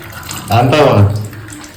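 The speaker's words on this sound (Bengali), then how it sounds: "তাই এই মাছগুলো ধুয়ে নিচ্ছে" Raw stingray fish being washed in running water for cooking, a brief close splashing and trickling from a tap that swells for under a second, with a voice speaking over it.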